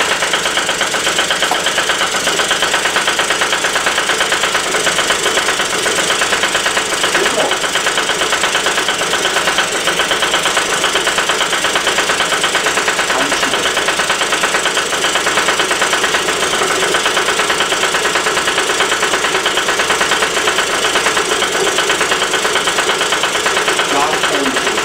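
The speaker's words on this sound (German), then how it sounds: "Wir öffnen das Ding mal und ich kicke den Roller mal an." A 1999 T-Rex 50 scooter engine runs steadily after a kick start, a loud, close, continuous rattling two-stroke drone with knocking texture throughout, no talk over it.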